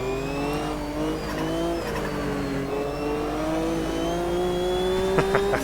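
A Sauber Mercedes C9 Group C race car in the Automobilista 2 sim racing game, its engine droning steadily and rising in pitch through the gears, loud and continuous with no talk.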